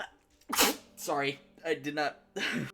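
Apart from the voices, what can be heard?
sneeze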